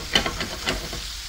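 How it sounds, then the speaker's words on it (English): Dover sole sizzles and crackles in a hot frying pan, with a few sharp pops and scraping stirs over a steady frying hiss. "Here we go, guys. Sizzling away."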